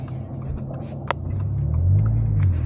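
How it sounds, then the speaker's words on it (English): Steady low road rumble and engine drone inside a Toyota GR86 cabin at 65 mph on the freeway, continuous and swelling slightly louder toward the end, with no talking. "Freeway driving. And 65 miles."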